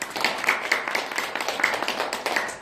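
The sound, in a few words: audience clapping for a talk show guest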